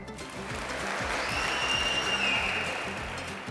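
An audience at a school competition show claps in a dense burst of applause that stays fairly even for a few seconds before tapering slightly.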